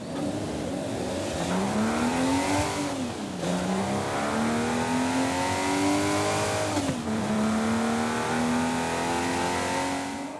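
BMW 850CSI with a 5.6-litre engine in Forza Horizon 5, revving loudly with a steady droning tone that climbs through the gears, dips at two shifts and keeps pulling, heard alone and up close.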